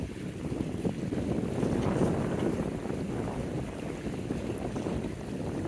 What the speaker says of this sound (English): Actually a little bit more wind than there was supposed to be today.